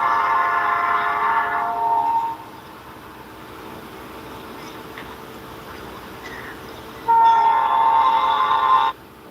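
A train rolls past in the South Carolina outdoors, sounding its horn in two long blasts separated by a quieter stretch of rumbling wheels and faint insects, fairly loud and without talk.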